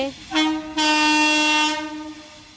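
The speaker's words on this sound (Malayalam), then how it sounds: "കോഴിക്കോടേക്കുള്ള ട്രെയിൻ അങ്ങോട്ടാണോ പോകുന്നത്" A train on the line toward Kozhikode sounds its loud horn, a short blast followed by a long sustained one close by, with rumbling rail noise underneath.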